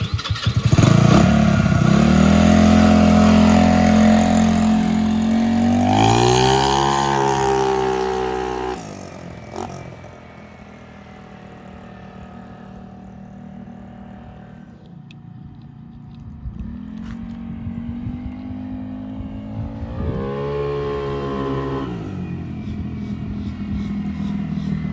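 A scooter engine revs loudly up close for the first several seconds, then drops to a quieter running drone with rises and falls as it rides around, pitch climbing again near the end.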